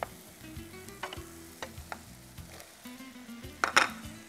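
Carrots tossed into a pan of turmeric, chili and coriander powder fry with a quiet sizzle while a spoon scrapes and knocks the pan in irregular strokes, ending in a louder clatter.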